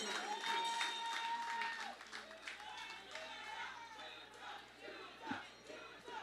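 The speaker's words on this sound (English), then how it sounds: "Let us welcome her with a round of applause." A crowd at a Labour Day rally welcomes a teachers' union speaker with applause and scattered cheers, a fairly faint, spread-out wash of clapping and crowd noise, with voices mixed in.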